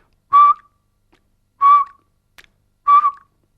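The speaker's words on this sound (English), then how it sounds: "What I want you to do is whistle and then smile and alternate this." Three short whistled tones from a person, evenly spaced about 1.3 seconds apart, each clear and close with a slight downward tail, done as a mouth exercise for saxophone embouchure, with near silence between them.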